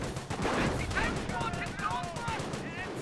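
Units in the video game Company of Heroes force-fire at the ground, making rapid rattling gunfire and crackling shots in dense bursts, with a commentator's voice partly over the battle.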